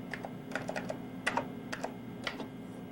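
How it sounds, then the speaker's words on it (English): Clicky keystrokes on a computer keyboard, irregular bursts of taps with short pauses over a steady low hum, close and moderately quiet. "The user can enter text by clicking in the text string and typing."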